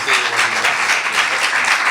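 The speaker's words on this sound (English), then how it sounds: "Let's have a big round of applause for all of our speakers." A crowd at a Palestinian rights event applauds its speakers, giving a short, loud, continuous wash of clapping with voices mingled in.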